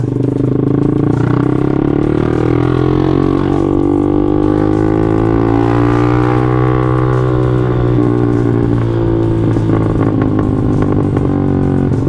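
A Yamaha Jupiter MX motorcycle engine hums steadily while riding on a road, its pitch rising and falling gently with speed, loud and continuous throughout.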